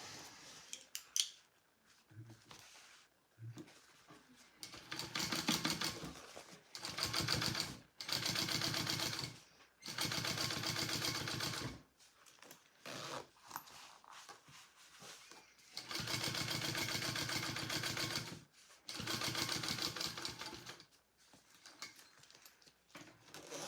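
A sewing machine top stitching a bag runs in repeated bursts of steady whirring, each several seconds long, with short quiet pauses between runs and occasional clicks.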